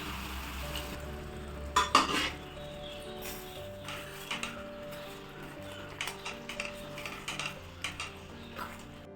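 A green pea curry with garam masala is stirred in a pan, giving soft intermittent scrapes and light clinks of a spoon against the pan over a low background hum, close and fairly quiet.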